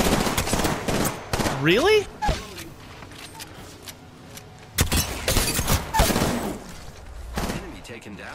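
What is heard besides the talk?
gunfire in the video game Apex Legends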